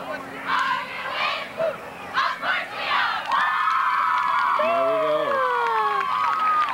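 A cheerleading squad at a high school football game shouts and cheers as a crowd, with bursts of yelling followed by a sustained, loud roar of voices.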